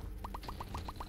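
The Pascal Candle buff activating in The Binding of Isaac: Repentance, heard as a quick series of about seven short, evenly spaced chirping blips over a busy low game background.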